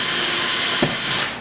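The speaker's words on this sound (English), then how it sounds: "drill the hole." A power drill bores a hole into a wall for mounting a painting cleat, a loud continuous whirring grind with a short pitch shift near the end as it winds down.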